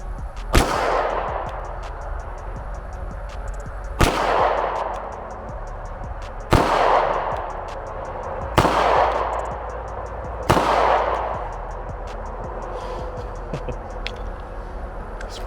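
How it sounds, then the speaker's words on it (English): Five pistol shots ring out one at a time at an outdoor range, each a sharp loud crack with a short decaying echo, spaced roughly two seconds apart with quiet between. "This is where I was firing. So that's 5 rounds at 15 yards."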